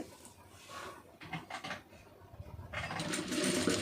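Sewing machine stitching piping onto a neckline, with a brief whirring run of stitches followed by a louder sustained burst of rapid mechanical stitching, close up.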